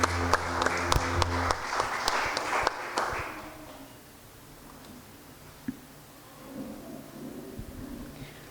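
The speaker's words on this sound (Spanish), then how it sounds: "Le damos un fuerte aplauso al Señor." Church congregation at a Friday evening service giving a loud burst of applause for about three seconds with a few sharp claps or drum hits, then fading into quiet room murmur with faint sounds.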